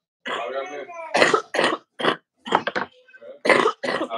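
Woman with a bad cough, heard close up in a series of short, harsh bursts separated by brief pauses.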